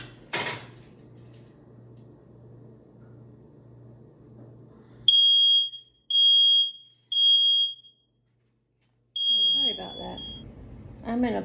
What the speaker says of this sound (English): these fire alarms are so super sensitive, it's annoying